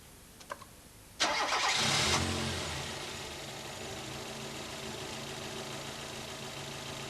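A car engine cranks briefly, then catches and starts with a loud surge before settling into a steady idle, heard close up with no talk.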